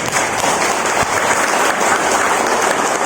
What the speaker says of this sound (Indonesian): Tepuk tangan dulu buat bupati.